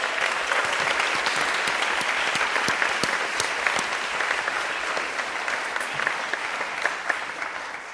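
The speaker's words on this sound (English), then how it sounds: "Can we give them a round of applause?" Audience applauding speakers at a law and policy event, a steady, dense wash of clapping from a full room that holds evenly and tapers slightly toward the end.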